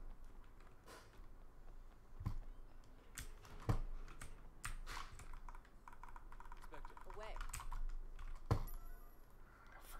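Computer keyboard keys are pressed in uneven bursts of soft, close clicks during a Sleeping Dogs speedrun, with a few louder sharp taps and faint background noise.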